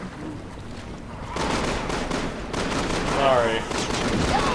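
Gunshots in Resident Evil 6 ring out in the catacombs, starting quieter and then erupting into louder, sharper bursts of fire, while a voice briefly speaks over the noise.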